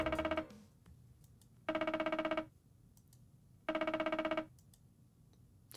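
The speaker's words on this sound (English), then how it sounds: "the boss dials the number on his phone from the bar counter" A phone rings in a video game at a bar counter: three evenly spaced electronic ring bursts with gaps between, clear and moderately loud over a quiet background, no speech.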